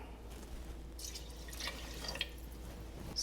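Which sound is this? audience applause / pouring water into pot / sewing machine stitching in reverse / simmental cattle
pouring water into pot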